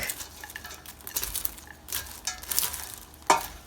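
Caramel-coated popcorn stirred in a pot after the heat is turned off, producing a continuous rustling, scraping rattle with light sizzle and a sharp metallic clink near the end, close and moderately loud.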